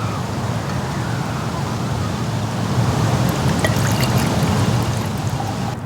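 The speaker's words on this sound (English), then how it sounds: "Pour this into the cup for me, please." Liquid is poured into a cup in a steady, loud gushing stream with a low rumbling splash. Faint clinking ticks come in about halfway through, and no one speaks.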